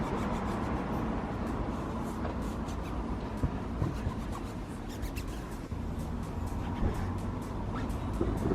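Glass on an E87 BMW is wiped with Autoglym glass cleaner and a microfiber cloth, giving a steady, close, continuous rubbing and scrubbing with no pauses.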